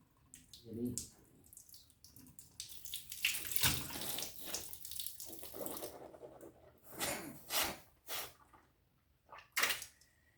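Tap water runs and splashes in short bursts into hands or a basin during Islamic ablution, with irregular close pours and drips in a quiet room.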